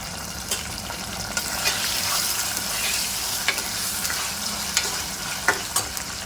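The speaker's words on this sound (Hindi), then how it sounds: "1 से 2 मिनट चिकन की भुनाई करेंगे" Chicken with ginger, garlic and salt fries in a pan, a loud continuous sizzle with occasional sharp spatula scrapes and taps close up, and no voices.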